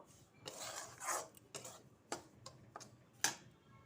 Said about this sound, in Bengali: এইবার আমি সুজিটাকে হালকা লাল লাল কিংবা ব্রাউন করে ভেজে নেব।